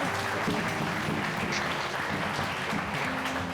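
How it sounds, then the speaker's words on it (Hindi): A church congregation gives loud, steady applause after a sermon, a dense, continuous clapping that fills the hall and carries a faint background hum, with no speech over it. "जितने लोगों को ये वचन समझ में आया वो जोरदार तालियों के साथ परमेश्वर का धन्यवाद देंगे।"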